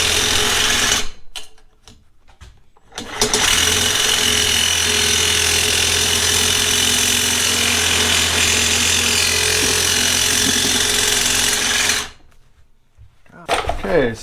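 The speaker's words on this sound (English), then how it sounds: "let me just go put it in the vise and we'll start cutting away" A saw cuts into a metal turbo pipe clamped in a vise for a BRZ turbo build, a loud, steady, harsh grinding roar lasting about nine seconds, with brief starts and stops near the beginning and end.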